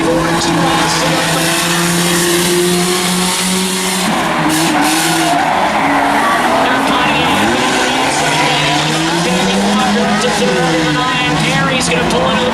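Race cars at a short oval track during a claimers race, with loud engines roaring and revving close by, shifting pitch as cars pass, with tyre squeal and a race commentator talking over the noise.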